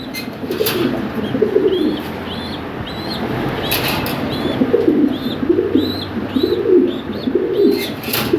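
Lahori Sirazi pigeons coo in a loft, a run of low, throaty rolling calls repeating every second or so, with thin chirps of smaller birds overhead and a steady background hum.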